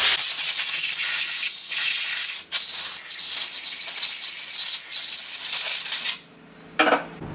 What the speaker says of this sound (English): safety glasses on before you squirt out all your stuff with compressed air